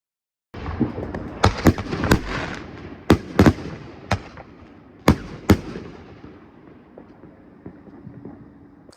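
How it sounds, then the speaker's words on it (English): Fireworks boom and pop irregularly, about a dozen sharp bursts with crackling rumble between them, heard from a distance outdoors with no voices. "enjoy the fireworks show"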